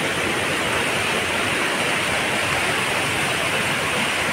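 The Sana Ghagra waterfall in Keonjhar pours in a constant, full roar of rushing water, broad and unbroken, close and loud with no voices.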